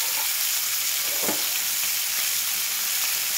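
Pieces of fish fry in a pan with a steady, hissing sizzle, close and continuous, with one brief clatter partway through and no voices.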